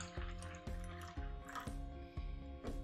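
SmartWater alkaline water poured into a container, heard close and quiet as a sequence of about six regular glugging splashes over a wet, trickling bed of liquid.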